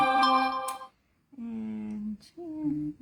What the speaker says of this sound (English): I apologize that I forgot to silence my phone